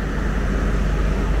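A diesel locomotive and its running power van on the Islamabad Express between Lahore and Rawalpindi give a steady, loud broadband rumble and roar that holds constant, close by, with no voices.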